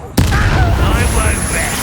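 A Confringo blast spell explodes in Hogwarts Legacy, a sudden loud burst that cuts in after a brief quiet moment and leaves a dense, rumbling wash of debris and crackle ringing on for nearly two seconds.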